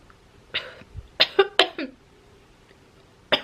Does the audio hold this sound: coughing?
yes